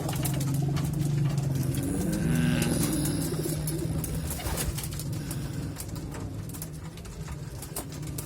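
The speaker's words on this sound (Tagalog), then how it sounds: "ito yung anak ng kalapati" Pigeons coo in low, throaty bursts near a nest holding a pigeon chick, with faint rustling and soft background noise throughout, no one speaking.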